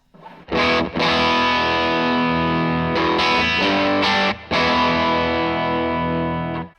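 An electric guitar runs through a Victory V40 Duchess amp with the gain all the way up, voice 2 and mid kick on. It plays thick, distorted sustained chords, close and loud, broken by a few brief stops and re-strikes. No talking.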